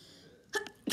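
A sneeze during a video game session, a short burst followed by a second louder sneeze right at the end, rising sharply out of quiet background game sound.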